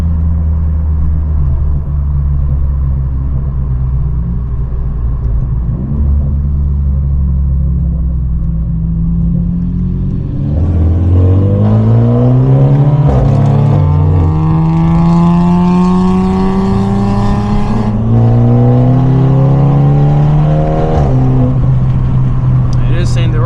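A straight-piped catless BMW 530i cruises alongside a straight-piped Nissan 350Z, with a loud continuous exhaust drone that rises and falls as the engines rev up through gears, heard close from inside the car, with talk over it.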